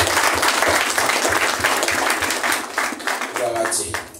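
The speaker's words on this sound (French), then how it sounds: "On applaudit les seigneurs dans la vie." A congregation applauds loudly and continuously during a worship service, a dense wash of clapping with voices underneath.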